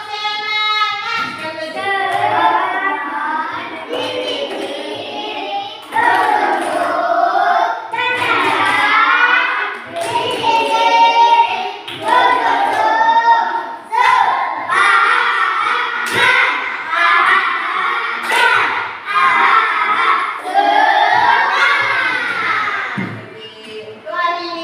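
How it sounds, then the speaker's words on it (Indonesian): A class of schoolchildren performs a rhythmic spirit clap, loud bursts of sharp, patterned claps alternating with their shouted chanting in repeated rounds, close to the listener. "Tepuk semangat."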